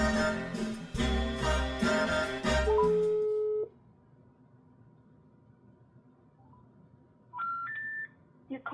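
Phone call to a Windows activation hotline placed from a Russian number, with dense dialing tones and a busy signal at the start, then a long steady beep and a faint line hiss, ending in rising three-note intercept tones.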